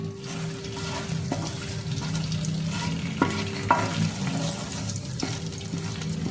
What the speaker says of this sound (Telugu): స్టోన్ ఫ్లవర్ అన్నీ కలిపి వేస్తున్నానండి. కొంచెం లైట్గా వేపుకోవాలండి.